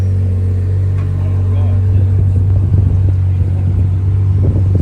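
A purple Ferrari SP3 hypercar passing on the street during Monaco Grand Prix weekend, its deep engine rumble swelling as it draws near, heard over steady background hum.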